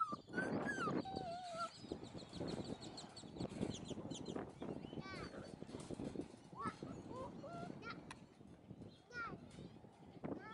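Young puppies whimper and yelp in high, thin cries scattered through the scene, close by, mixed with an adult voice talking softly over them.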